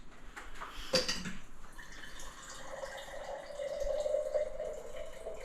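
Filtered water pours into a glass at home while a lemon drink is made. After a brief clink, a gentle, close trickle rises in pitch as the glass fills, with no one talking.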